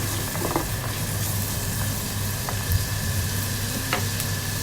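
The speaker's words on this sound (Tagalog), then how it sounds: "hintayin natin maluto ang sibuyas guys, bago natin ilagay yung crab" Onions fry in a pan before crab is added, giving a constant close sizzle and hiss with faint scattered pops and clinks over a low steady background.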